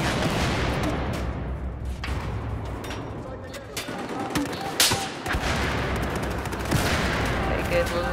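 Gunfire in the video game Battlefield 4, dense bursts of shots and impacts throughout, with someone talking over the action.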